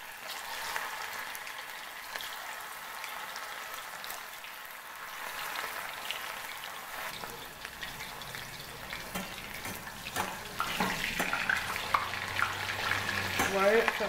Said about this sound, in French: après maintenant l'huile est chaude, je vais saisir